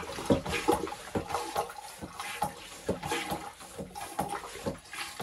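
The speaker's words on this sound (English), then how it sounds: "It's going to pump clean seawater in." A boat toilet's manual pump strokes rhythmically, drawing seawater into the bowl with repeated gurgling splashes at close range.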